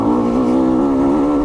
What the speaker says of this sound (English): So you'll hear how low the RPMs on the bike are.